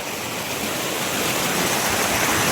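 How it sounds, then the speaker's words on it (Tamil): A waterfall roars as a steady, dense rush of falling water that stays loud and unbroken throughout, with no voices. "இங்க பாருங்க எவ்வளவு அருவியை பாருங்க"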